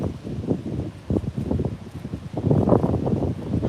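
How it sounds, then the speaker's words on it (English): Gusty wind buffets the microphone in irregular bursts, loud rumbling thumps rising and falling throughout. "It's so windy."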